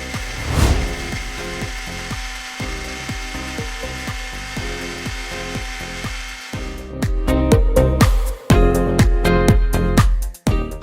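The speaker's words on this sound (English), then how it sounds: "Once it cools, grind it to powder." Cooled dry-roasted spices ground to powder in an electric grinder: rapid rhythmic ratcheting, clattering pulses, then louder whirring bursts that stop and restart, close and loud.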